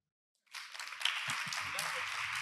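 Audience applause welcoming a speaker at a conference, starting abruptly from silence and settling into a dense, steady patter of many hands clapping.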